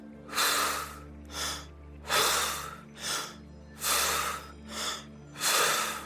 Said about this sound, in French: nous allons faire une expiration forcée et nous allons rentrer le ventre tout en chargeant.